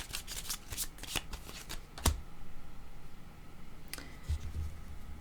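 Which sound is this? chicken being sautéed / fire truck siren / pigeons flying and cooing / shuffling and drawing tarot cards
shuffling and drawing tarot cards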